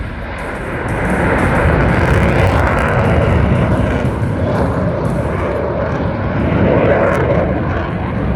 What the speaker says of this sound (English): He's going to reposition back around for a high-speed pass